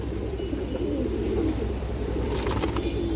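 A pair of pigeons, a male and a female, coo in a steady, low, rolling murmur that runs the whole time at close range, with faint chirps and rustling higher up and no talking.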